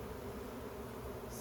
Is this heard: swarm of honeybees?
yes